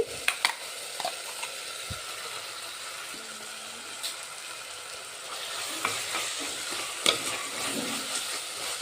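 Tomato, onion, ginger and garlic sautéing in a pan give a close, steady sizzle with occasional scraping stirs and small clinks of a spoon, no talk over it.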